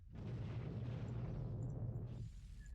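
Bombardment explosions from the space game Eve Online produce a faint, muffled low rumble that swells and holds for about two seconds before fading.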